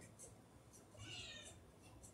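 A cat gives a faint, drawn-out meow in the middle of a quiet room, heard alone against low background noise.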